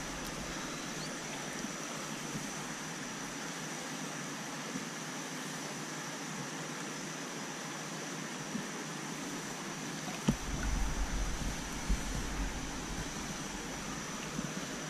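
Creek water runs steadily during a flood, a constant soft rushing wash, with a few faint knocks and splashes near the end.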